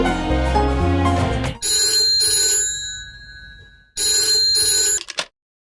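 A landline telephone rings in two bright electronic bursts separated by a pause, loud and close, following a swell of music that fades out before the first ring.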